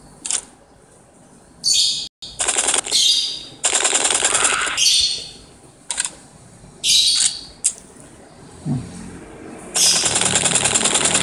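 Gunfire in the Dino Hunter video game comes as repeated bursts of crisp, bright shots in irregular clusters, loud and close, separated by short pauses.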